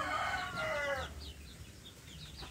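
A rooster crows loudly for about a second, then scattered clucks and faint chirps from free-range village hens, some brooding, follow at moderate distance.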